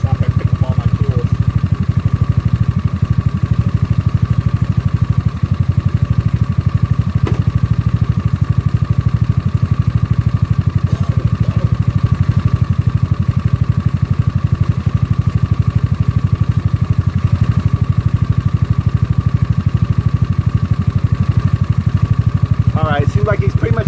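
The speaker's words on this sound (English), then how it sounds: "we already kept the engine running for a good 15 minutes already now" A GY6 scooter engine fitted with an OKO PWK 30mm carburetor runs steadily at idle, a loud, continuous low drone close by that persists throughout, with faint background noises but no clear talk.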